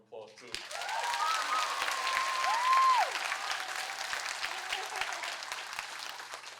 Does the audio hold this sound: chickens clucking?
no